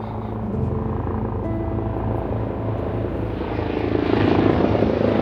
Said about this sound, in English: Oh, got a chopper coming by.